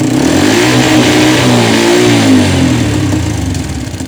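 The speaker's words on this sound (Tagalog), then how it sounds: "Ayan subukan natin i-high rev. Namamatay." A medium engine with an electrical fault that cuts out at high revs is revved up steadily, the pitch climbing and then sagging as the close, loud engine note weakens toward the end.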